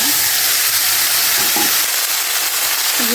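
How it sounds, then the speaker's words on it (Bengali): Cumin seeds and mixed vegetables with green chilies fry in hot oil, giving a loud, steady, close-up sizzle and hiss throughout, with faint stirring clinks and no talking. "আমি তেলের মধ্যে জিরে দিয়ে দেবো আর রাঁধুনি তরকারির সবজিটা দিয়ে দেবো"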